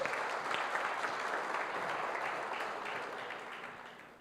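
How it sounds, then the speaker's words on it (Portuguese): Steady audience applause at a business seminar, a dense wash of clapping heard from a moderate distance, fading slightly toward the end of its four seconds. "Mais uma vez, recebo os aplausos, muito obrigado."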